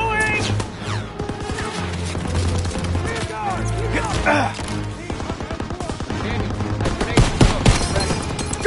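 Machine gun fire in the Call of Duty WW2 video game, rapid rattling bursts mixed with scattered shots and impacts throughout a loud close battle, with voices shouting amid the firing.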